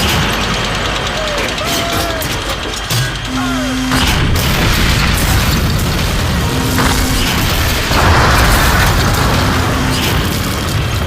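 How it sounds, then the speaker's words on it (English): Big gun firing and explosions in the Call of Duty war game, a loud, continuous rumble of booms and blasts with a heavy low-end roar, and voices talking over it. "And here comes the big gun."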